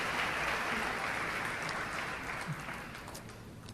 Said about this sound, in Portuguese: Podemos aplaudir o nome santo e bendito de Jesus.